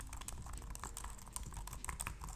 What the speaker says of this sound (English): This Repu 9300M keyboard is simple yet sleek. It has a metal frame and doesn't wobble when typing.